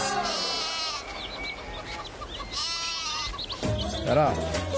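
Goats bleat several times nearby, wavering cries rising and falling, with a rooster-like call and background voices mixed in.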